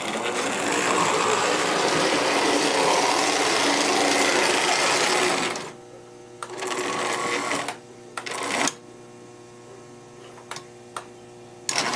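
Model NW-2 switcher locomotive running around a layout, a steady dense motor whir that fills the first half, then drops away to quiet with a few short bursts and clicks.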